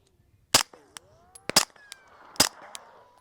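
A suppressed handgun firing 147 grain ammunition lets off three sharp, close cracks spaced about a second apart, each followed by a brief ringing tail and faint mechanical clinks.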